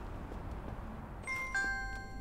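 A shop door chime in the video game Big Ambitions, a short electronic ding-dong sounding twice in quick succession over a low background hum.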